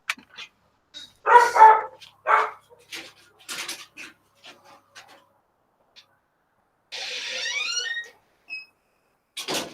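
Several dogs barking at home, with sharp bursts of barks and yips scattered across the stretch and short whimpering sounds between quiet gaps, fairly close.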